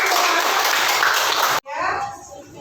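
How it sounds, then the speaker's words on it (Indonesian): Classroom applause during a teaching performance test, a burst of clapping from students that fills the room for over a second, then cuts off abruptly and gives way to quieter room sound and faint voices. "Luar biasa, tepuk tangan untuk kita semua."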